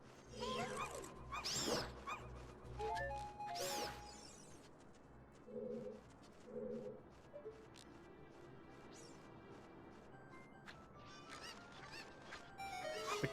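A swarm of cuccos attacking in the video game The Legend of Zelda: Ocarina of Time, shrill clucking squawks with crashing hits, in bursts rising and fading with gaps between them, no talking.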